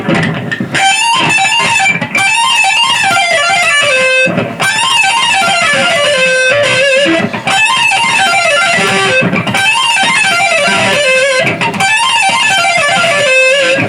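Electric guitar playing the tapping passage of a solo, fast cascading tapped and hammered notes with palm muting on the thicker strings, loud and continuous with effects, no voices.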